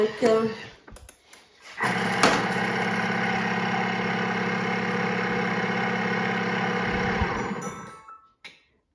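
A Thermomix blends coriander for about five seconds at speed 5, starting after some handling clatter with a steady mid-pitched motor whir. It runs evenly, then winds down and stops, with talk before it starts.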